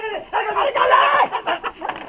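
A rooster clucks loudly and close by in a short burst of throaty, choppy calls lasting about two seconds.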